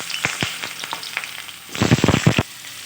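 Pumpkin pieces fry in a pan with salt and a little turmeric. A soft sizzle runs under a series of sharp scraping stirs, then a louder, denser burst of crackling and scraping near the end, close and with no talk.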